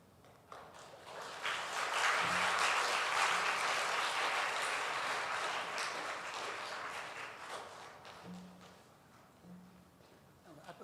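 A seminar audience on child-rearing claps at length, a broad wash of applause swelling after the first seconds, holding steady, then thinning out, with a few voices heard near the end.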